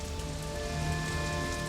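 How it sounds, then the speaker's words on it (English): Steady rain pours down onto surfaces, a dense continuous hiss with a low rumble underneath, loud and unbroken with no voices. "the rain came"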